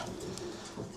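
Racing pigeons coo softly in a low, rolling murmur, several birds close by in a shed under a faint steady background hiss.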